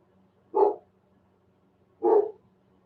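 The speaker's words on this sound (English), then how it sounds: "there's the dog barking" A dog barks twice, a couple of seconds apart, each a short mid-pitched bark over a quiet background hum.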